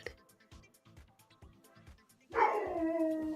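A dog barks in a loud burst near the end, after a quieter stretch of rhythmic low thumps.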